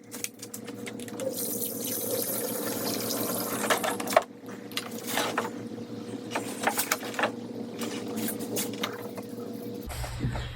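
Distilled water pours steadily from a plastic jug into the coolant reservoir of a BMW 328i F30, a close continuous trickle and gurgle with brief pauses and a sharp knock partway through.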